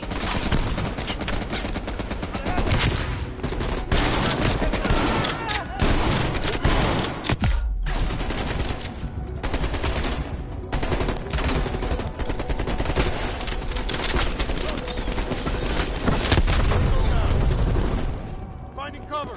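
Heavy machine gun fire rattles in the Black Ops Cold War campaign, dense and loud bursts of gunshots continuing almost without pause, with voices shouting amid the battle.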